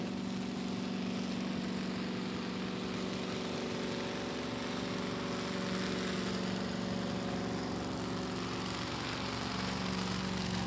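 Old tractor engine at a tractor pull drones in a steady, continuous low roar for the whole stretch, fairly distant and unbroken, with no voices over it.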